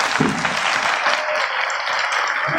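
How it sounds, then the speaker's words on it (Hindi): A crowd at a religious discourse claps together in a sustained, dense burst of applause, loud and continuous with no talking over it. "ताली बजा दीजिए।"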